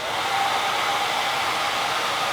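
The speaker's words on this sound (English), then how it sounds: "So once it's in, turn the blower on" A hair dryer blower running steadily close by, a constant loud airy rush that holds level throughout with no voices.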